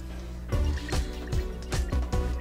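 Purified water being poured for a sea salt compress solution, a run of quick gurgling drips and splashes in an even rhythm, close and fairly soft.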